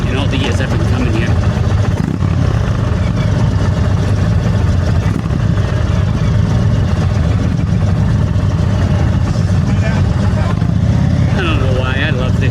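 Rumbling motorcycle engines idle and rev continuously in a busy outdoor crowd at Laconia Bike Week, with people talking throughout over the steady mechanical drone.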